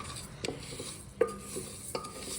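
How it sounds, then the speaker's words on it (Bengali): A ladle stirs dal ingredients in a hot pan, three or four quiet scrapes and clinks against the metal over a faint low sizzle, close but soft. "এটাকে নাড়াচাড়া করবো একভাবে"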